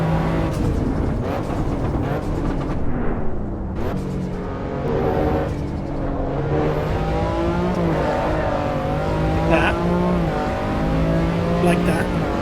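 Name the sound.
race car engine and gear changes in video game Assetto Corsa EVO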